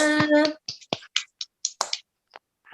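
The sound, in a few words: classroom clapping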